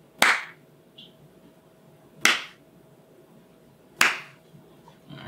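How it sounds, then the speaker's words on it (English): Three sharp, isolated hand claps for an audio sync test, evenly spaced about two seconds apart, each close and crisp against a quiet room with a faint hum. "let's do a clap test."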